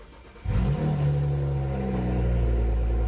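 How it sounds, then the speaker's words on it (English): A BMW N54 engine, running with its exhaust removed, cranks and fires up with a sudden loud rumble, then holds a raw, throaty idle that rises and falls slightly, close by with no voices. "This was me starting the car with the exhaust off."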